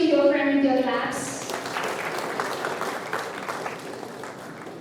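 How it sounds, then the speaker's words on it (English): An audience claps for a prize winner at a cash prize ceremony, steady and moderate after a short opening of musical tones, slowly easing off. "Please encourage your friend with your claps."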